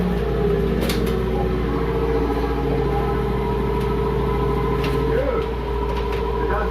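An old car engine with a worn, neglected engine bay runs with a rough, steady drone after a hard start on a freshly charged battery, close and continuous, with faint talk nearby.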